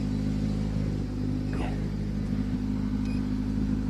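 A rally car competing in the ERC2 category rolls up and brakes at the end of a stage at the Serras de Fafe e Felgueiras rally, its engine a loud steady rumble close by, with brief whines and people talking nearby.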